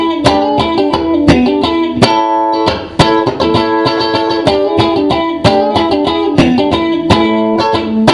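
Funky electric guitar rhythm, slightly distorted, with tight repeated chord stabs and sharp percussive strums in a syncopated groove, loud and close, playing alone without talk.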